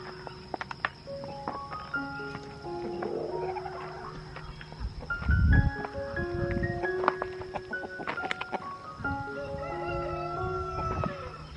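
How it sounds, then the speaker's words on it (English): Several chickens cluck and call in overlapping bursts, with a rooster crowing loudly near the middle, against a steady high hum. "Hello chickens!"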